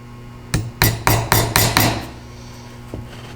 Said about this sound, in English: before I hammer that in